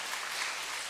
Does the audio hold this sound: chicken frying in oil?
no